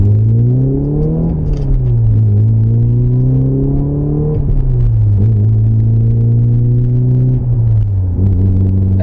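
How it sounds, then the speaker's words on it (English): A Porsche 944 engine and exhaust hum steadily from inside the car while driving, a loud continuous drone that climbs in pitch through the gears and drops at each shift, with no talk. "the exhaust sounds a whole lot better now"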